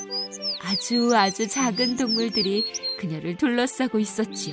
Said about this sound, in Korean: 백설공주는 새들의 지저귀는 소리에 잠을 깼어요.